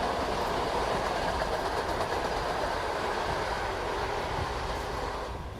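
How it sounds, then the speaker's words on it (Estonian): A passenger train travels on rails toward Joškar-Ola, a steady loud rumble with rhythmic clickety-clack from the wagons, continuous throughout and easing slightly at the end, with no voices. "Rong sõidab pealinna Joškar-Olasse"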